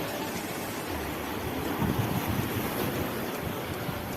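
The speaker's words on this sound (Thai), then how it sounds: "บรรยากาศริมทะเลนะครับ" Sea waves wash steadily onto the shore at Pranburi, mixed with constant wind buffeting the microphone. The surf forms a continuous, fairly soft hiss and rumble with no talk.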